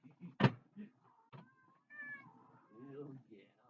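A house cat meowing indoors: one sharp, loud cry followed by a few softer, drawn-out meows and chirps, close up.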